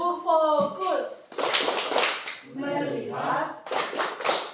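Rhythmic group clapping by a class at an Indonesian primary school, a patterned focus clap in bursts, mixed with children's and adult voices speaking and chanting close by.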